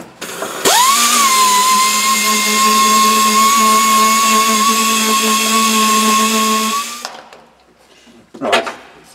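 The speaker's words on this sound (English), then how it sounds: "just get a little sander in and see if I can establish where all of the spot welds are down there" A small sander grinding a car floor pan to expose spot welds, a loud sustained high whine for about six seconds that spins up sharply and then cuts off, followed by a brief rattle.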